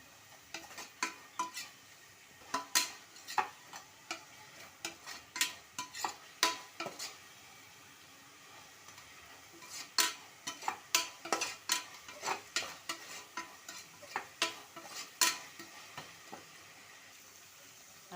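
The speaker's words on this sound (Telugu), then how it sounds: "అల్లం మీద వేసి కలిసినాక బాగా కలుపుకోవాలి బాగా ఫ్రై అవ్వాలి" Ginger garlic paste is stirred and fried in a cooker pot for mushroom biryani, with rapid irregular spoon scrapes and taps against the metal over a faint background sizzle and no talking.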